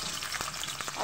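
Chicken pieces fry in hot oil seasoned with cardamom, cinnamon and cloves, giving a short, steady close sizzle with a few soft stirring knocks.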